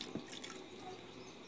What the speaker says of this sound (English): what I'm going to do now is I'm going to put some water in